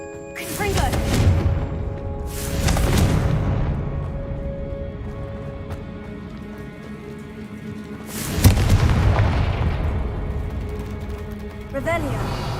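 Repeated booming blasts of the Confringo fire spell in Hogwarts Legacy, three heavy rumbling explosions spaced a few seconds apart, loud and close, each trailing into a deep roar, with game music underneath.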